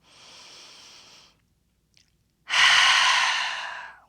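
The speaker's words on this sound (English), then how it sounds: "Inhale through the nose. Exhale, open mouth." Someone takes a slow breath in through the nose, pauses, then lets out a long, louder exhale through the open mouth during a chair yoga exercise, close and quiet with no talk.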